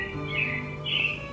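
Robins chirping in the animatronic Carousel of Progress stage show, two short bright chirp phrases over a steady hum of the theater scene, moderately loud with no speech.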